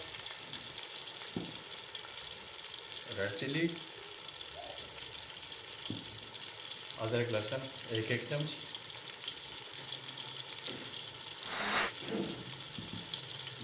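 Steady, low sizzle of masala with tomato paste frying in a pan for beef pulao runs throughout, with a voice speaking intermittently over it and occasional stirring clinks.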